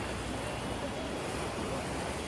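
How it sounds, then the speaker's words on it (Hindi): The swollen Ganges in flood at Rishikesh, rushing past the ghats under heavy pressure: a dense, continuous roar of water, steady and loud throughout, with no talk. "प्रेशर के साथ गंगा माँ बहती हुई है।"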